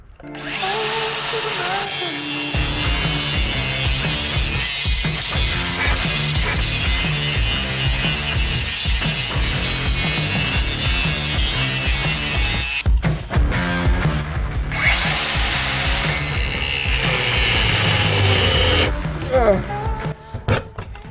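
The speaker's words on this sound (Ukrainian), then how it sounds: "Ти на неї прям лягаєш як вона в'їдається в метал." A loud DeWalt DCG418 54-volt cordless angle grinder screams continuously as it bites into metal, with a short pause midway and a voice speaking over it near the end.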